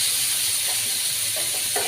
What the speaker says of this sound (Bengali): তো এর মধ্যে দিয়ে দেবো এখন আমি কেটে রাখা পেঁয়াজ আর টমেটোটা। এটা ভালোভাবে আমি একটু নাড়াচাড়া